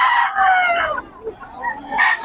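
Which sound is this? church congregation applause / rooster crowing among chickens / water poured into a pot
rooster crowing among chickens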